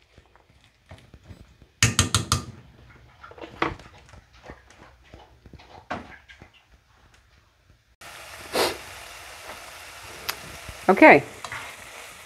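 Onions cooking in melted butter in a pan for a creamy Cajun chicken pasta, with soft sizzling and stirring clatter, a brief spoken word near the start and a steadier frying hiss in the last few seconds.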